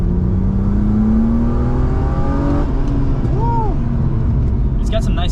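A BMW E36 M3 coupe with a five-speed manual accelerates hard, its engine note climbing steadily before a gear change and a further pull, loud from inside the cabin with voices briefly heard.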